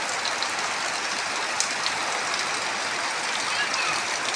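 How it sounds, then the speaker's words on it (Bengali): Heavy rain falls steadily on Paikpara village, a constant bright hiss that holds at an even level, with a few faint ticks and drips standing out now and then. "এই যে আমাদের পাইকপাড়া গ্রামে এই বৃষ্টি"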